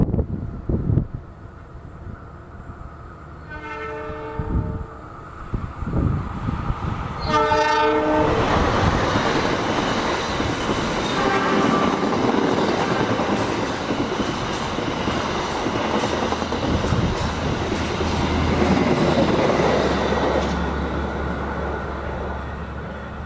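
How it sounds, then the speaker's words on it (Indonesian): The Taksaka passenger train from Gambir to Yogyakarta sounds its horn in two long blasts, then roars through the station with loud rumbling and rhythmic wheel clatter that lasts about fifteen seconds before easing off. "Yang baru saja melintas itu adalah kereta api Taksaka dari Gambir tujuan ke Yogyakarta."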